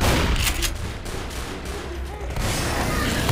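Sustained, loud rapid gunfire from the zombie shooter game Left 4 Dead, a dense, continuous barrage with a brief dip just before it surges again.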